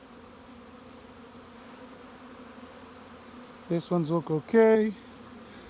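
Bees buzz steadily around hives in an outdoor beeyard, a low continuous hum under the whole stretch, with someone speaking briefly near the end.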